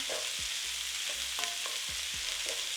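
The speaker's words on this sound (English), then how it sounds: "So since we're using frozen corn, we're gonna let it cook for about a minute" Frozen corn cooks with chicken in a single pan, hissing steadily as a spoon stirs through it now and then with soft scraping knocks, close by and with no talking.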